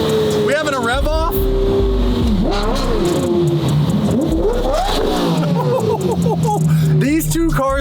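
A Lamborghini Murcielago and another supercar rev their engines in turn, a continuous loud roar with rising and falling revving sweeps, while people talk over it.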